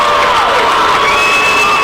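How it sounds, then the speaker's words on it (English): At a girls' regional championship basketball game, a loud gym crowd boos and cheers together after a travel call, a dense, continuous roar of voices. "And the Hoosick Valley Indians boo. The Cougar fans cheer."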